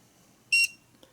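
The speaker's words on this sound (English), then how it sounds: "You can hear that beep" A single short electronic beep from an ANIIOKI 60V inverter/charger as its AC output is switched on, clear and close in a quiet room, followed by a faint click.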